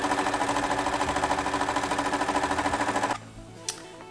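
A sewing machine quilts fabric strips in a quilt-as-you-go project, a fast even mechanical whir with rapid regular needle pulses running close and steady for about three seconds, then stopping, followed by a single soft click.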